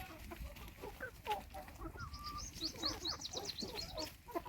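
Domestic hens cluck in a busy backyard flock, a steady run of close, overlapping clucks and a few higher calls building into a quick burst of squawks.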